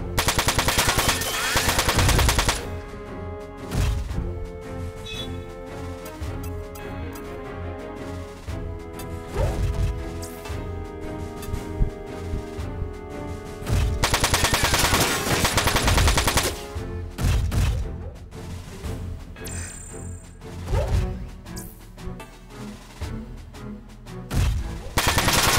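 Sustained machine-gun fire from mechs in Front Mission 4 on PS2, German base map, with long loud bursts broken by short pauses and heavy crashing impacts throughout.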